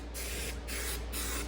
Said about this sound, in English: let me get this sprayed up. Hopefully this can of paint works